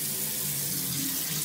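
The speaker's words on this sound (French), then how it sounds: "je vais rajouter un petit peu d'eau froide" Cold water runs steadily from a tap into a basin of hot water, a constant close hiss for a moment with no talk.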